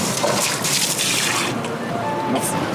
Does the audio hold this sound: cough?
no